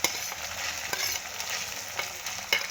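Onion sautéing in a pan for farshan bhaji gives a steady close sizzle, with a few soft scraping stirs breaking through, and no voices.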